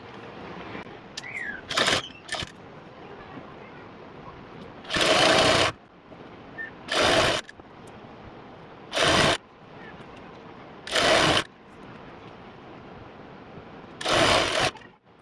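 A sewing machine stitches elastic onto baby pajamas in five short, loud bursts of rapid whirring, separated by quiet pauses, close by with no talk.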